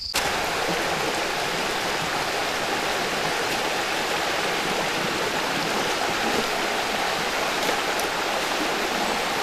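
River water rushing steadily through a channel being opened to let it pass, a loud, constant broadband roar with no pauses, alone throughout.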